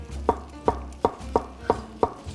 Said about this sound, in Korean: 죽순이 너무 두껍게 썰면 두드러져서 조금 이렇게 얄풋하게 써시는 게 좋더라고요